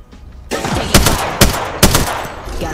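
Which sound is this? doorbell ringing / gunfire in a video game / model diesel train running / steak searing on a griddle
gunfire in a video game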